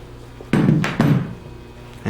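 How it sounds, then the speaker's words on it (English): A Press and Snap tool seats a snap-in carpet fastener with two close, sharp plastic thunks about half a second apart, followed by quiet. "Give the Press and Snap a good snug grasp. Release it."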